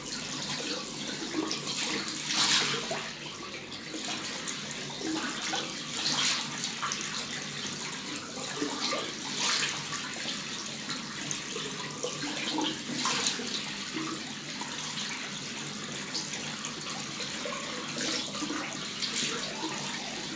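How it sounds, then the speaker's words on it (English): Water runs steadily from a tap to rinse shaving cream off a King Pelican Paladin razor, a continuous close splashing rush with slight shifts as the blade passes under the stream. "The cream's starting to dry out, so I'm just going to wash this off."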